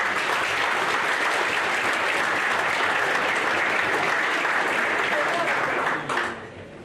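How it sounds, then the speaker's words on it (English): Dense, loud applause from a crowd at a high school fall sports banquet honoring cheerleaders trying out for an All-American team, a continuous roar of clapping that holds steady before tapering off at the end. "So give them a round of applause."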